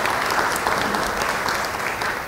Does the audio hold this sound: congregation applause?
yes